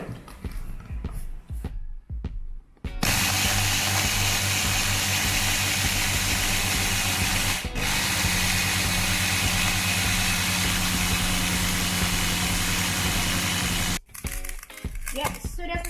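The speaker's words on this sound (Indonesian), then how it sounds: "Lalu kita tutup dan mulai memblender." A blender grinding granulated sugar into a fine powder runs with a loud, steady, continuous whir for about eleven seconds, starting abruptly and cutting off sharply, with quieter handling noises before and after.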